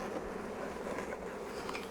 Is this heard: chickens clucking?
no